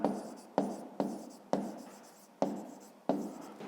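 Pen writing on paper while working a fifth-grade math exercise, a series of six short scratchy strokes in irregular rhythm, close and quiet with no talk.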